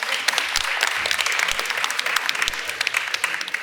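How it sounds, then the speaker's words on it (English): An audience at a panel discussion applauding, dense sustained clapping that stays fairly loud and even throughout. "give her a big round of applause as well."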